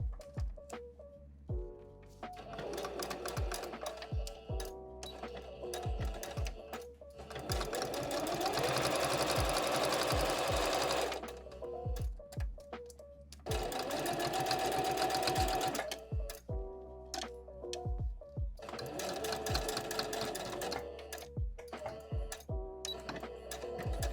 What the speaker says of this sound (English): to use my sewing machine, but I'm getting the hang of it really quick.